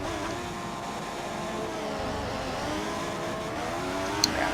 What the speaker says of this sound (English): this car sounds really weird in my opinion.